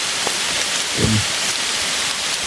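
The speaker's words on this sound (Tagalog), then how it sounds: "Delikado ngayon ulan." Continuous rain hiss fills the background, even and steady, with a faint low rumble briefly rising near the middle.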